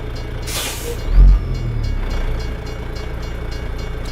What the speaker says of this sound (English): I'm hearing train noises with no train